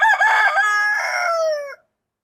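Backyard hen, from a flock of Rhode Island Red and Brahma hens, giving one loud, close, drawn-out crow-like call that lasts under two seconds and then falls silent.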